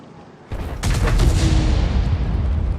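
A T92 HMC self-propelled artillery gun fires in a tank video game, giving one sudden loud blast that is followed by a long rumbling roar that slowly fades.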